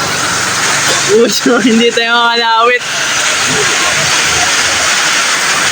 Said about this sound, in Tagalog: Hindi lang medyo kasi sobrang ingay talaga dahil sa malakas na ulan.